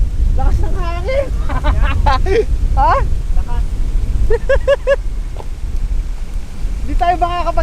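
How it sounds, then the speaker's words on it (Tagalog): Strong wind roars and buffets the microphone in a continuous low rumble beside rough, heavy water, with several people talking and exclaiming over it throughout. "Lakas ng hangin."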